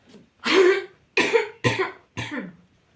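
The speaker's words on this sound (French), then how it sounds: "Je suis désolée de tousser comme ça, vous ne pouvez pas savoir ce que ça m'agace." A woman coughs four times in close succession, each cough a sharp, harsh burst close to the microphone, separated by short silences.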